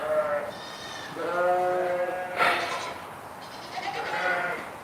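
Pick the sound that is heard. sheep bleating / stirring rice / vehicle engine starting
sheep bleating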